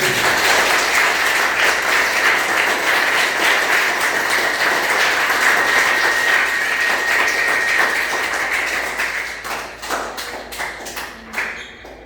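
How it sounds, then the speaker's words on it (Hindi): A large seated audience claps loudly and evenly at a spiritual discourse. The dense applause thins into scattered individual claps and fades out over the last few seconds. "एक बार, ताली बजाइए"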